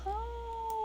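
A single short, clear cat meow from a pet in The Sims 4, a smooth tonal call lasting under a second, close and alone.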